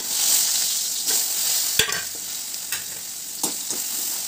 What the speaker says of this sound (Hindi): अब मैं करने वाली हूँ आलू फ्राई, इधर आलू है तो आलू को भी हल्का फ्राई कर लेती हूँ।